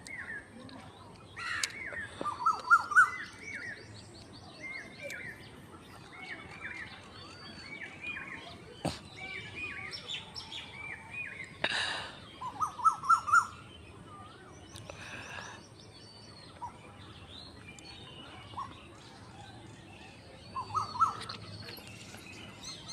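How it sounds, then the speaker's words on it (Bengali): An Asian koel sends out scattered rising calls near a flowering tagar (crepe jasmine) shrub, fairly faint and several times apart, over a quiet outdoor background with a few other bird chirps. "ওই যে কোকিলটা, আমাকে জুম করে দেখাচ্ছি।"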